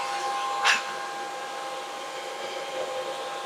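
Anker SOLIX E10 battery system's cooling fans whirring as a steady broadband hum with faint tonal whine, constant throughout, with one brief sharper burst near the start.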